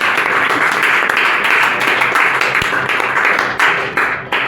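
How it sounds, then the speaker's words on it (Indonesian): Loud, dense audience applause fills a conference hall, with sustained clapping from many hands that thins slightly toward the end. "Kita beri aplaus dulu buat konferensi"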